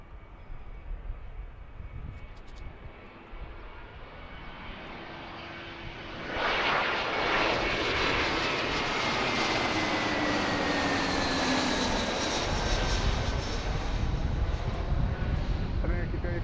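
A fixed-wing airliner on the Tampa flight at Philadelphia airport rumbles steadily in the distance, its engine roar swelling into a louder, sustained wash of noise partway through, with a voice talking over it.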